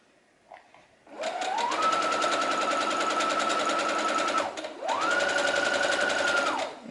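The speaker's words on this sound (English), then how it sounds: "you turn that seam up and you can sew several of those" Sewing machine stitching hems on fabric face masks, a fast close mechanical whir that ramps up and runs steadily, stops briefly, then runs again for a second burst.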